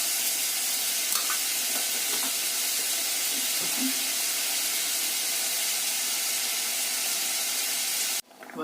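Curry gravy for a banana-flower fritter dish boils in a pan, making a loud, even hiss of bubbling and steam that runs nearly unbroken. It cuts off abruptly near the end.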